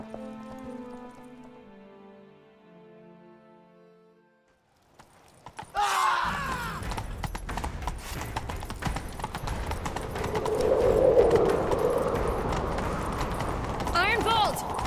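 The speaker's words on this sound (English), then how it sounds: "Grab a horse, we'll chase him down." Horse hooves galloping in The Witcher 3: Wild Hunt, a rapid clip-clop that starts after a quiet music passage and runs steadily to the end, with occasional voices and a neigh mixed in.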